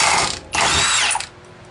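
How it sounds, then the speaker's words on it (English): An impact wrench with a 30mm socket loosening a CVTech primary clutch, two loud close mechanical bursts of hammering rattle, the second longer, each ending abruptly. "I got a 30mm socket here on my impact."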